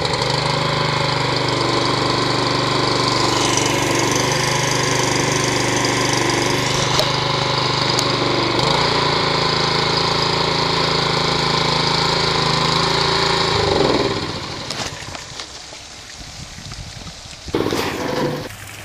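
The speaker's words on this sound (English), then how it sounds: "first we have to get the pump running" A water pump's engine drones steadily and loudly at a golf course being returfed, with a constant mechanical hum that drops away near the end and leaves quieter, uneven rumbling and a brief final burst.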